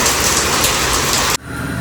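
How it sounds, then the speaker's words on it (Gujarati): Steady rain pouring down in Rajkot, a dense continuous hiss of drops on surfaces that cuts off abruptly near the end, leaving only faint background noise. "તો જોઈ શકો છો અહીંયા વરસાદ પડી રહ્યો છે."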